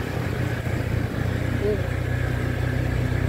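A motorized tricycle's engine rumbles steadily at close range while riding along a Batangas baywalk road, with voices present beneath the drone.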